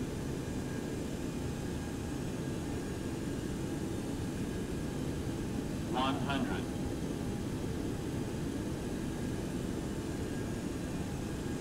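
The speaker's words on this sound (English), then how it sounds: "We're just going to land the plane." Airplane engine drone in the X-Plane 11 flight simulator during a landing approach, a steady loud rumbling hum with a brief chirping tone in the middle.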